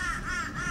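Crows caw in a quick series of harsh, wavering calls, fairly near and clear outdoors, with no talking over them.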